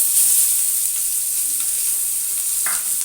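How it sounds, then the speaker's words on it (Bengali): Chopped onions fry in hot spiced oil with no extra oil added, making a loud, even, continuous sizzle close by, with a faint spatula scrape near the end. "পেঁয়াজটাকে একটু হালকা করে ভাজতে হবে"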